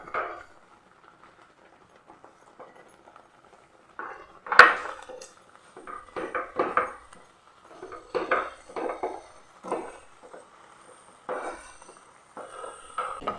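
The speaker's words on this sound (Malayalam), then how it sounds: "ഒട്ടും കട്ട പിടിക്കാതെ നല്ല പോലെ ഇളക്കി കൊടുക്കാം" Semolina mixture stirred in a pan on the stove, heard as intermittent close scraping and knocking of a utensil against the metal, with one sharper clank partway through and quiet gaps between strokes.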